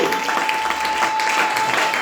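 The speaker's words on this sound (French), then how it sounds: "Est-ce qu'on peut acclamer pour Jésus-Christ?" A church congregation at a tabernacle service claps and cheers for Jesus Christ, a dense, steady wash of applause that fills the whole moment without pause.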